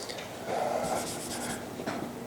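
An equation of a line being written on a board during a differential geometry tutorial: a brief scratchy stroke, close and fairly clear, then a short quieter mark near the end.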